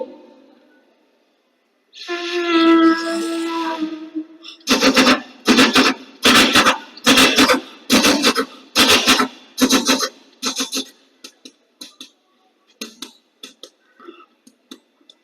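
A voice mimics a superfast train, first a long sustained whistle-like blast, then a steady run of sharp rhythmic chugging bursts that thin out and fade as it passes.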